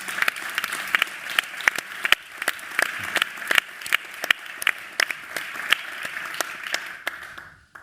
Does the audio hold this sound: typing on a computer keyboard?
no